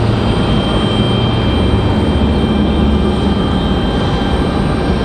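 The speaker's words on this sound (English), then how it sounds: "FedEx ATR coming in from Newbern" A FedEx ATR turboprop arriving from New Bern, a loud, steady engine drone with a low hum and faint whine that holds constant throughout, with no talking.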